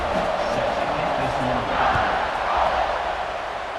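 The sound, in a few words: stadium crowd buzzing after a score, college football video game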